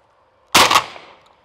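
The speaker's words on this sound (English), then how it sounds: "I need more shells, I shot them all." A single loud shotgun blast from a dove hunt cracks sharply up close, then fades into a short echoing tail.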